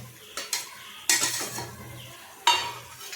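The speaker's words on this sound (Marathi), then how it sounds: "कोथिंबीर अशी छान मिक्स करून घ्यायची" A few scraping stirs of a spoon mixing coriander through a simmering egg curry, with quiet bubbling between the strokes.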